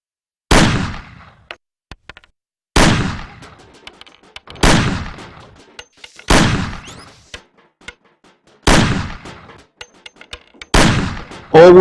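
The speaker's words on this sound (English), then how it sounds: "Shoot the cans off of the table." Gunshots at cans on a table in the game Mafia (2002): six loud, separate shots about two seconds apart, each a sharp crack with a short decaying echo, nothing between them.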